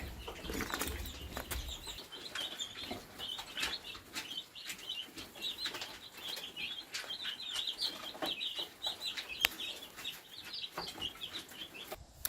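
Meat chickens and chicks cluck and chirp softly at close range in a sawdust-bedded coop at morning feeding, with a busy mix of scratching and small rustles continuing throughout.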